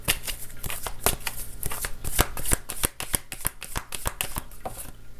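A deck of tarot cards being shuffled in quick repeated riffles, a steady run of crisp, close flicking bursts with no talking.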